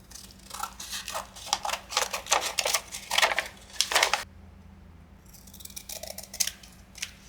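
Paper being trimmed with scissors for a junk journal envelope: a rapid series of crisp, close snips and slicing cuts, then a quieter pause before a few lighter snips toward the end.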